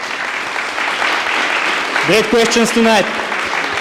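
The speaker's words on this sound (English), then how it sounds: "so big applause for the jury" Audience applause for the jury at a pitch event in the Gurko Panorama Theatre Hall, a continuous bed of clapping that a voice talks over in the second half.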